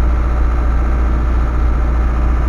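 A truck engine idles in neutral, heard from inside the cab as a steady, loud, low droning hum with no change in pace and no voices.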